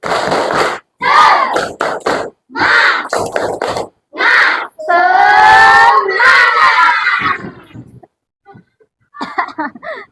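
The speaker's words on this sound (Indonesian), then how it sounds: "marilah kita melakukan tepuk semangat" Schoolchildren in a classroom perform a rhythmic spirit clap, bursts of patterned hand claps in quick groups mixed with chanted voices, loud and close, ending in a short cheer and a few scattered claps.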